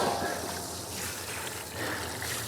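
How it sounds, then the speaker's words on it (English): Water trickles and splashes softly as a basket of freshly harvested sweet potatoes is rinsed, a quiet continuous pour with a faint outdoor background. "We'll rinse our basket off."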